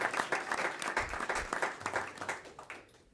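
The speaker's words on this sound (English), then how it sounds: "So if we can give a round of applause to all of our people" Audience applause at a school district board meeting, a sustained patter of many hands clapping from a room of people, fairly distant and quiet, tapering off at the end.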